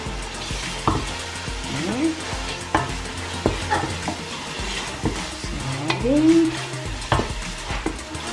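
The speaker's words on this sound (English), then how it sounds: "now I'm gonna add my dry fish into my stew and mix them together" Dry fish is stirred into a sizzling stew for Ghanaian red rice, a spoon scraping and knocking against the pot over a moderate bubbling hiss, with several distinct clinks.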